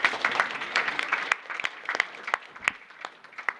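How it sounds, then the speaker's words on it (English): An audience at a youth leadership conference claps in a fading burst, dense at first and thinning into a handful of sharp, separate claps, with no talking over it. "You guys can clap it out."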